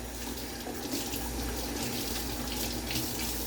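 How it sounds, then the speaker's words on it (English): Cold tap water runs steadily into a kitchen sink as fresh cilantro is rinsed under it, a continuous close splashing rush with no talk. "I'm over in the sink rinsing it."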